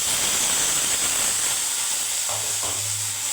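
Carrot, potato and kohlrabi tumble into a pan of onion-fried cauliflower, a steady moderate sizzle with a couple of soft scraping stirs near the end.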